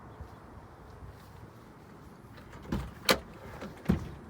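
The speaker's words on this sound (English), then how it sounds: "So the back door opens in 2 parts," Two-part rear door of a Honda Element opening, with a few sharp latch clicks and a thump near the end after quiet background noise, close by and without talk.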